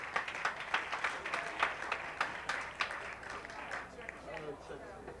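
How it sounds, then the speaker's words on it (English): Applause from an outdoor festival crowd in 1988, a burst of clapping that swells and then tapers off while someone speaks over it on a loudspeaker. "Give these guys a big hand."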